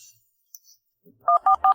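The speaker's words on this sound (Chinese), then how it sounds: "我现在就给景明打电话。" Three short, evenly spaced telephone keypad dialing tones, clear and fairly loud, from a woman placing a call, with a brief faint rustle before them and no talk.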